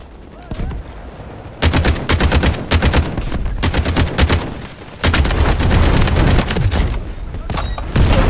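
Loud sustained gunfire and artillery in the multiplayer shooter Delta Force: Hawk Ops, dense rapid bursts of shots and booms that start after a quieter opening, pause briefly, then resume with full intensity close by.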